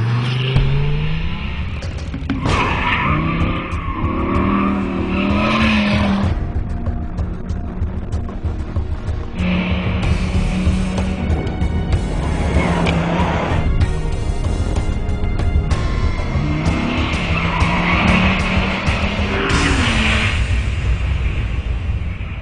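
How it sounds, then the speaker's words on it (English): A 600-horsepower V10 Dodge Viper ACR roars loudly around the Laguna Seca track, its engine repeatedly climbing through revs, dropping on upshifts and braking, then surging again in a continuous close onboard howl. "the Dodge Viper ACR, 600 horsepower V10, driving those rear wheels"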